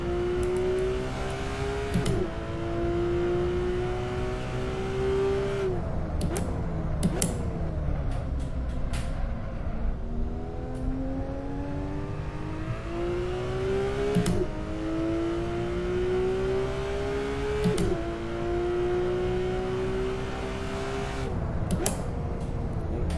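Tesla Model 3 in the Assetto Corsa racing game accelerating down a long straight, a loud steady electric motor whine rising in pitch through repeated sweeps, heard alone with no talk.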